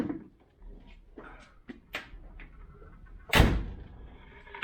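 A few soft knocks and rattles lead up to one loud, sharp slam of a 1971 Range Rover's driver's door shutting nearby, followed by quiet.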